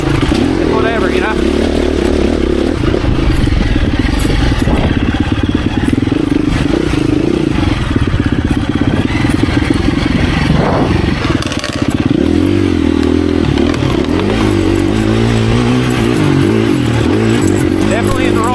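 A 2024 KTM 350 EXC-F motorcycle engine drones loud and close while riding on a twisty road, its pitch shifting as the throttle and gears change, with a rider talking over it throughout.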